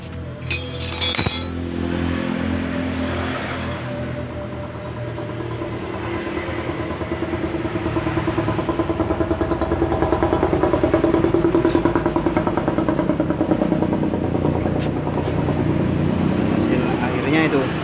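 Honda Tiger Revo motorcycle on a test ride after shock absorber repair, engine running steadily and building slightly in loudness, with a brief clinking rattle near the start and a person talking over it.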